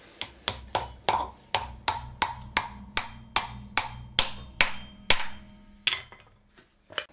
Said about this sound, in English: Let's put our piece of steel on and let's hammer through